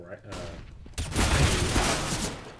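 Pistol gunfire in a competitive esports match of a tactical shooter, a few quick sharp shots followed by a dense burst of overlapping fire and impacts, loud and continuous under a caster's excited commentary.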